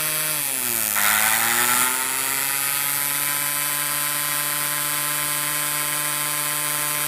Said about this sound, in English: I guess you can tell by the sound of the motor that it runs faster when the diode is connected